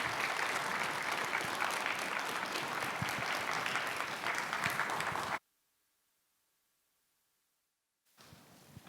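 A church congregation at a Christmas service applauds to welcome a speaker forward, a dense, sustained wash of clapping for about five seconds, then sudden silence before faint room sound returns.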